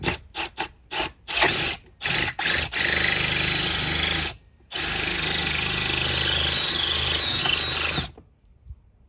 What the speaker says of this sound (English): All right, so bigger size drill bit here.